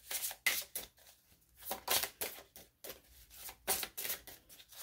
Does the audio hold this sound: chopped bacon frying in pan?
no